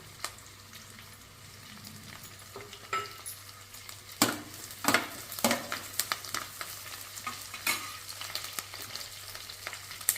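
Green chillies and curry leaves hit hot oil in a pan for chicken kaju fry, giving a steady close sizzle with sharp crackling bursts and a few stirring scrapes, no voices.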